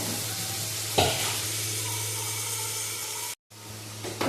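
Onions sautéing in coconut oil for chicken curry, a close steady sizzle with a stirring clank near the start, a brief cut to silence, then the frying resumes.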